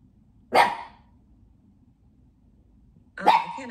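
A dog gives two loud, close barks about two and a half seconds apart, with near silence between them.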